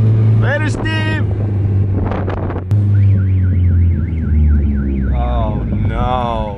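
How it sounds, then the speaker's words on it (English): A car alarm wails in a rising and falling pattern a short way off while people talk and shout nearby over a low rumbling engine. "Whose alarm's that?"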